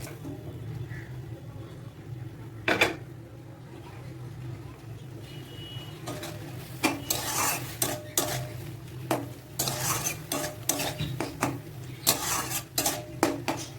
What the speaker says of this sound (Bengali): আর এবার দিয়ে দেবো ভেজে রাখা করলা আর আলু।